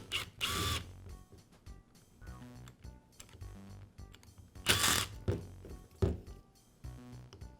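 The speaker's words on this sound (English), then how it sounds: "Now I'll separate the gear case from the motor." A DeWALT angle grinder's gear case is pried apart from its motor housing, giving quiet, close metallic clicks, scrapes and a couple of sharper clunks in irregular bursts.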